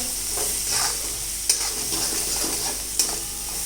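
Grated green turmeric goes into a sizzling potato dish and gets stirred through it, a steady frying hiss with soft scraping strokes and two sharp clicks of the spoon against the pan.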